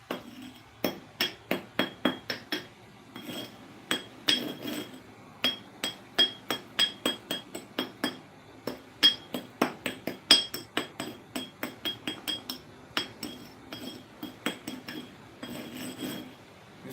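Coarse sand grains are crushed into pieces against a barber's sharpening stone, giving a long run of sharp, clicking gritty taps in irregular bursts, close and crisp against a quiet background with no voices.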